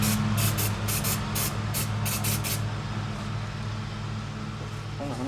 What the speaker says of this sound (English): you're gonna wanna spray it with some spray paint